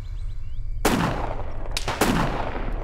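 Two sharp gunshots in a survival game set in Arma 3's DayZ Exile mod, each a loud broadband crack followed by a decaying echo, separated by about a second, over steady low background rumble.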